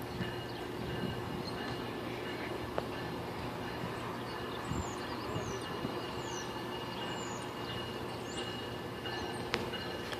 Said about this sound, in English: Train meet.